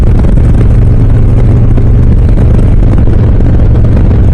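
A Harley-Davidson Low Rider S motorcycle engine idles and revs outdoors in a steady, loud low rumble close by, with no speech over it.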